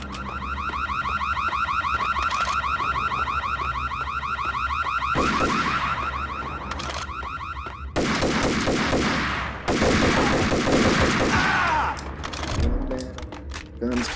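Rapid video game gunfire bursts in repeated volleys, loud and close, over a steady tonal alarm-like drone, with a player's voice talking at times.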